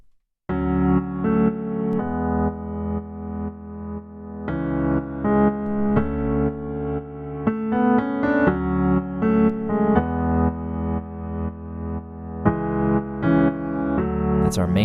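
Piano playing the main riff of a song: sustained, repeating chords with a steady pulse and a melodic line on top, loud, close and continuous, with no talking.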